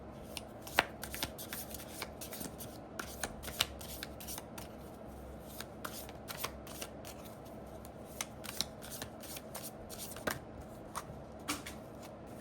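An emotions card deck being shuffled close up, a quiet steady flutter of riffling card edges with scattered sharper clicks and snaps as cards slap together, no talking.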